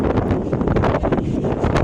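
Strong wind from Cyclone Remal gusting hard against the microphone, a loud rumbling buffet with trees thrashing, brief and continuous.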